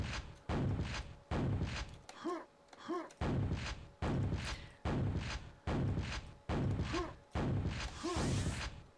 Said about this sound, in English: let me show the super shotgun